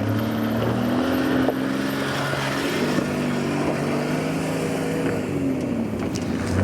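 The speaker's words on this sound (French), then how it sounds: "T'entends le bon 6 cylindres en ligne en sur-régime?" A 4x4 with an inline six-cylinder engine strains at high revs on the Sani Pass, a loud, sustained mechanical drone that holds steady throughout, with no speech.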